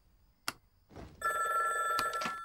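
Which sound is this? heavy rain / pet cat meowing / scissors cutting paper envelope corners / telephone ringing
telephone ringing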